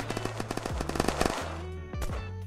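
Players shooting in the video game Unturned: rapid, evenly spaced gunshots, a short burst of single cracks followed by heavier overlapping shots, fairly close and alone over a low background hum.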